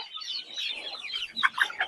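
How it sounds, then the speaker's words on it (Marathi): Silkie chickens on a poultry farm near Solapur, Maharashtra, give a short run of soft, close clucks, ending in a few sharper, louder bursts. "हे आहेत सिल्कीचं पक्षी."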